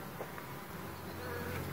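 A honeybee colony buzzes steadily in an opened hive that holds two queens, a dense, continuous drone heard close up with no talk over it.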